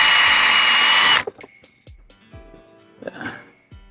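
A power drill drives screws into a plastic chicken feeder with a loud whirring burst that stops abruptly, followed by a few close clicks and knocks of handling.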